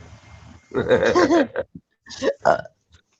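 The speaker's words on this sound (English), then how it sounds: "Wait, I burped." A person lets out a long, loud, close-up burp with a gurgling, croaky tone, followed by a couple of shorter belching grunts.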